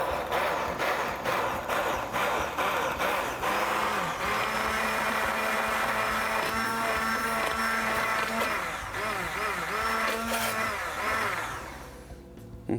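A blender whirs steadily while blending keto mayonnaise, a loud continuous motor drone with a rattling texture that cuts off abruptly at the end.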